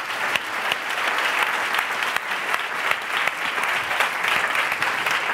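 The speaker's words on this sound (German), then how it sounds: "Großen Applaus für Sie." Steady applause from a conference audience, many hands clapping evenly at moderate loudness for several seconds without a break.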